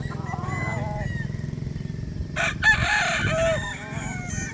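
A gamecock broodstag rooster crows once, close and fairly loud, its call rising over a low rumbling engine hum and scattered bird sounds in the background.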